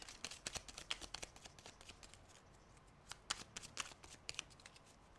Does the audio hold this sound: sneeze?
no